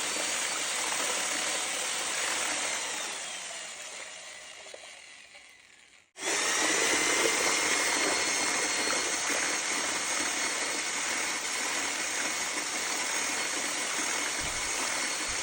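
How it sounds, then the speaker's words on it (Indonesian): An electric mixer runs at high speed blending ice pack gel ingredients, a loud continuous whirring roar that dips and cuts out briefly before restarting at full strength. "Getaran dari mixer ini cukup kuat ya teman-teman, saat kita mencoba menggunakan kecepatan yang lebih tinggi"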